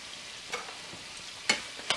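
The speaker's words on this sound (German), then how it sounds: "So, und dann erstmal das schön bröselig anbraten" Minced meat frying crumbly in a hot pan, a steady soft sizzle with a few sharper crackles and stirring scrapes near the end, close up and alone.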